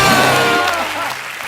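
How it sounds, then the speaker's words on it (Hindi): Loud studio audience applause and cheering for cricketer Chris Gayle on a Hindi comedy show, a dense burst of clapping blended with backing music that eases slightly toward the end. "जोरदार तालियां एक बार क्रिस गेल के लिए"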